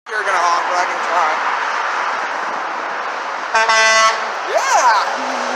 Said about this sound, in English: was that the snap-on truck with the International horn?